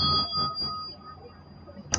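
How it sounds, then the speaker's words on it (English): A small bell is rung in a Buddhist setting, giving one clear bright strike whose tone rings out and slowly fades, followed by a second short strike near the end, heard alone with no talk. "So you ring the bell."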